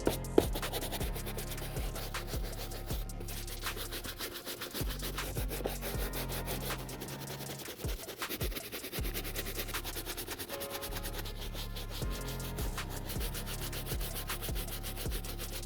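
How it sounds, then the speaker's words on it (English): A medium bristle brush scrubs a Jordan 3 sneaker up close, with rapid repeated rubbing strokes and scratchy bursts in a steady rhythm, briefly pausing now and then. "I'm just gonna be using the medium bristle brush in multiple directions to get it back to its original buttery soft texture"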